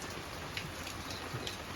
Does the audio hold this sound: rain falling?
yes